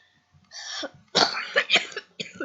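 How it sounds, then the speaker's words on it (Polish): A person coughs several times in a short, harsh burst, close to the microphone, with a breathy throat sound before it. "Zły kaszel."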